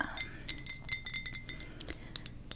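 A small ceramic decoration tapped and clinked like glass, giving a quick run of bright, delicate chimes and ticks at close range, soft and irregular with no voices.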